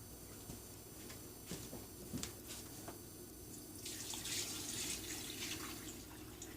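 Water pours into a washer tub, a soft continuous splashing stream with a few drips, growing brighter and fuller toward the end, close but faint.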